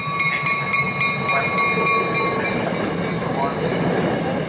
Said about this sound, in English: Arriving shortly on track number 1, Amtrak Regional Train 177